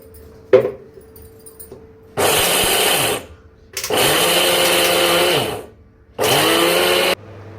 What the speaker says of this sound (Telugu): మిక్సర్ జార్లో వేసుకొని గ్రైండ్ చేసుకోవాలి